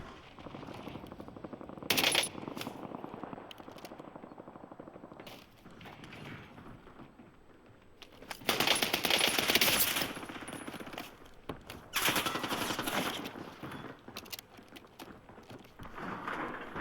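Gunfire in the video game Warzone, rapid bursts of automatic fire crackling in several spurts around mid-clip, over a continuous low game background, moderately close.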